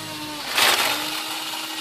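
The small electric motor and propeller of a Horizon Hobby Carbon Cub SS UMX RC plane, fitted with Tundra tires, whine up to high RPM in a sharp rising burst, then hold a steady buzzing drone close by.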